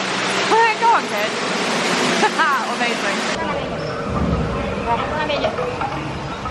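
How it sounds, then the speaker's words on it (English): A waterfall beside the canoe ride at Shanghai Disneyland rushes loudly and steadily, with a broadband roar running through the whole clip while people talk over it. "Behind a waterfall, the backside of water."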